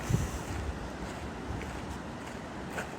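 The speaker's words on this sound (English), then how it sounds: "Shooting water out." Water gushes out of a dam along the Colorado Trail as a steady, broadband roar, mixed with wind buffeting the microphone, with no voices over it.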